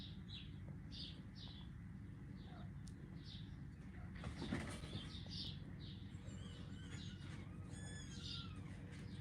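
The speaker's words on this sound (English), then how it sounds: "Can you hear the kittens?" Kittens in a box mew faintly while their mother cat joins them at feeding time: a run of soft, high, repeated calls over a steady low background hum, with no voices.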